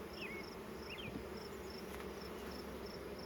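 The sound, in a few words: honeybees buzzing during a hive inspection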